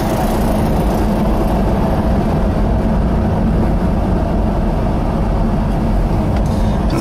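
A 1972 Chevelle with a stock exhaust and 2.5-inch GM mufflers drives along, its engine giving a steady low, muffled drone that stays close and constant without revving or talking.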